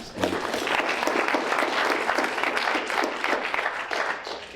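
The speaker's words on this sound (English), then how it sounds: "And give them a round of applause." An audience at an evening tech talk on critical mineral research gives a steady, dense round of applause for the sponsors, sustained and fairly close throughout with no speech over it.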